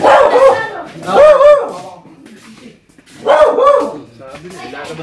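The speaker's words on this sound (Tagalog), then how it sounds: "Ay, mga aso." Dogs bark loudly and close by in two strong bursts, with whiny, yelping tones trailing into quieter yips between them.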